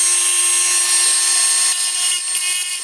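A router attachment cuts through plastic on a motor controller repair, a loud continuous high-pitched whine with steady grinding texture running unbroken from start to finish.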